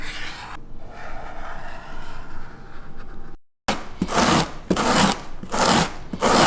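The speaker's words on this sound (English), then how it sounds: "I know where I'm going to shave some foam off to help improve the fit" A kayak's foam bulkhead saddle is shaved, giving raspy rubbing strokes up close; a soft continuous scraping runs first, then after a brief pause come several louder, regular back-and-forth rasps.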